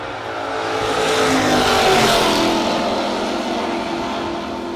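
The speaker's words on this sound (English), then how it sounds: "Dodge Dart out of New York. And one of the Kellers in the Camaro left side." Drag racing cars, a Dodge Dart and a Camaro, roar down a no-box drag strip, a loud continuous engine rush that swells to a peak mid-clip and holds steady without talk.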